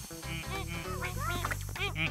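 Ducks quack repeatedly in short, nasal bursts over a steady low hum, with several calls overlapping close by.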